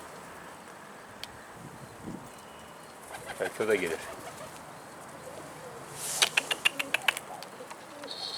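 Skittish pigeons coo softly at a loft, with a few brief wing flaps and chirps rising near the end, while someone speaks quietly over them.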